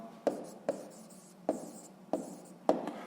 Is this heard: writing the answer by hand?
yes